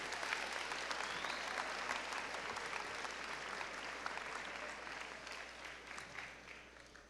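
Sustained applause from an audience at a high school honors awards assembly, steady dense clapping filling the hall and slowly tapering.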